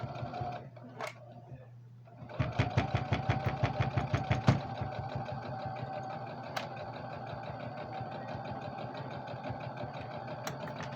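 A Brother CS6000i sewing machine stitches a pillowcase pincushion, starting after a quiet moment with a rapid, even mechanical chatter that runs steadily to the end, close and fairly loud.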